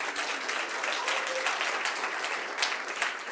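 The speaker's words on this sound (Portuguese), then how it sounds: "dê um aplauso forte para o Senhor Jesus" Church congregation applauding together at a worship service, a steady dense wash of clapping from many hands held at an even level throughout, with no voices standing out.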